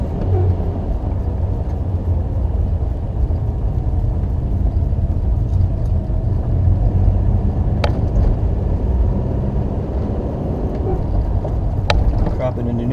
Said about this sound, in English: Dropping into neutral here and coast the slight downhill run.